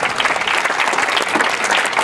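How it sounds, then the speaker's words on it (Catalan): A crowd applauds loudly and steadily at a bell-ringing event in Penàguila, Spain, dense clapping filling the room without a break. "un aplaudiment per a els majors"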